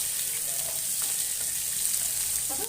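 Mutton frying in a pan for a village-style mutton sambar, giving a steady, close hiss of sizzling fat that runs unbroken throughout, with a brief scrape of stirring near the end.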